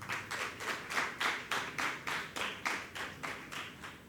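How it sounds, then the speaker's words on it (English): An audience at a university research symposium award ceremony claps for the award winners, a close, steady applause pulsing in rhythmic, evenly spaced bursts of many hands throughout. "I think they deserve another round of applause"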